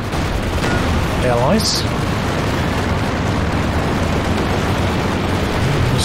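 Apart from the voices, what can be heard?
anti-tank planes attacking in Company of Heroes 2 video game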